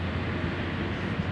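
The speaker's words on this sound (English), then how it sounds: "You hear the train?" A train on the main line near the abandoned Stormy Down lime works in South Wales sends a low, steady distant rumble across the whole moment, broad and unbroken.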